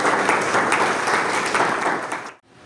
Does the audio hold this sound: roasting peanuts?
no